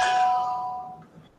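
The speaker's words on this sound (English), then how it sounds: "And there goes my phone." A short phone notification chime rings out once, bright and clear, then decays over about a second in a quiet room.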